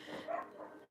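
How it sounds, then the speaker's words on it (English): Dogs bark indoors in a short burst, a couple of quick muffled barks and yips at moderate volume that cut off abruptly. "Don't mind my dogs."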